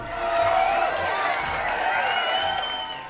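An uproarious crowd cheers in a courtyard, a dense, sustained roar of many overlapping shouting and whooping voices that swells early and holds steady throughout.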